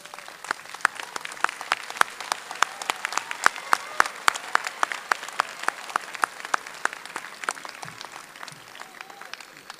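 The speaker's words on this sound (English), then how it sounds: "give them a big round of applause for many years of support" Graduates at a 2017 County College of Morris commencement applaud their families, a steady, dense round of clapping with sharp individual claps standing out, sustained through the whole stretch with faint crowd murmur beneath.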